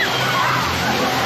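A fountain beside a ride at the Phantasialand theme park gives a loud, close, steady rush of splashing and sloshing water, with no break through the short stretch.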